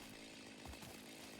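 A chainsaw runs steadily in the factory-building game Satisfactory, a loud continuous buzzing drone with a brief surge partway through as it bites into vegetation.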